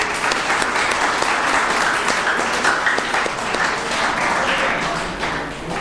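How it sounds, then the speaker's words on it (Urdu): Sustained applause from an audience at a farewell party, dense steady clapping that continues evenly throughout, moderately loud and fading slightly at the end. "جس کے لیے بھرپور تالیاں"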